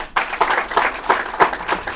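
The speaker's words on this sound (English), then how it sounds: "a round of applause for Ms. Tanyega." An audience claps at a business forum on empowering small and medium enterprises, welcoming a speaker to the stage: a dense, steady round of applause with individual hand claps audible, fairly close and loud, without talk.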